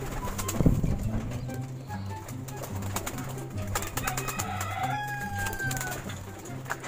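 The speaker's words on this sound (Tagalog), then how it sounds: "Ayan, ito yung kalapate." Ring-banded pigeons coo close by in a steady run of low, throaty repeated calls, with a few brief higher bird chirps and whistles layered over them.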